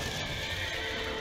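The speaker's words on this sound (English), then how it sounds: "the horses are escaping, honey" Horses in the video game A Way Out neigh and whinny while hooves clatter as they bolt from a barn, a short, faint burst with no talking over it.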